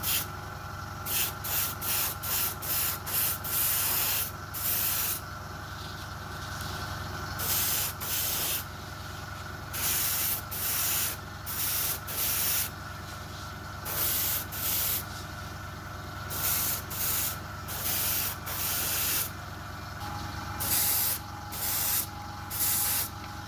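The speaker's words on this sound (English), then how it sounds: "I'll spray these with a nice silver colour" Short repeated bursts of spray paint hissing onto wheel hubs being coated silver, close and fairly loud, in an irregular rhythm of brief and longer blasts separated by pauses, over a steady low background hum.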